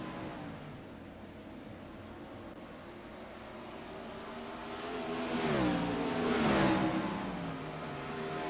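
410 sprint cars racing on the Port Royal dirt oval during a late-race battle for second place, engines droning steadily then swelling louder as cars pass close by, with no talk.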